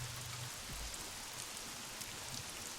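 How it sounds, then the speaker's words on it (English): Rain falls steadily outside in an even, dense hiss that continues unbroken, with no voices. "Only the sound of the rain outside"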